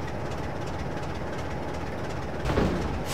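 Steady rumble of a train in Train Simulator 2013 rolling up slowly to couple with cars, a continuous low engine drone with a brief louder clunk near the end as it connects.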